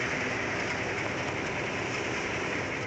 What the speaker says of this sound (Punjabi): ਨਾਲ ਨਾਲ ਸਾਡੇ ਰੇਸ ਲਾਉਂਦੀ ਟ੍ਰੇਨ ਜਾਂਦੀ ਆ ਪਰਲੇ ਪਾਸੇ